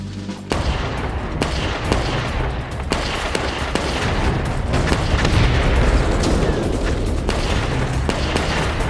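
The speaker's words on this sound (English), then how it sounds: "Winters kick-started the attack with a small arms barrage" Small arms fire in a World War II assault in France, a dense barrage of loud, overlapping gunshots and booms cracking in rapid irregular bursts, nearly continuous and close, without talk.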